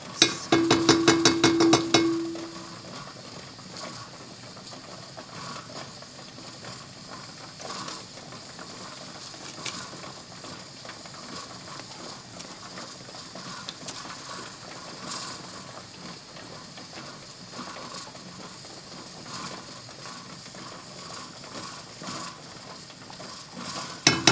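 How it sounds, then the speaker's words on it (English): Peppers being stirred into syrup in a pot for cowboy candy: a brief louder burst of spoon-on-pot scraping at the start, then soft intermittent stirring clinks and faint bubbling at low level. "I'll stir these all in there"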